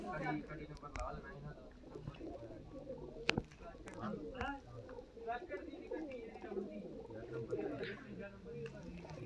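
Pigeons coo softly and repeatedly inside a pigeon cage, a steady low murmur of several birds under ongoing conversation between men nearby.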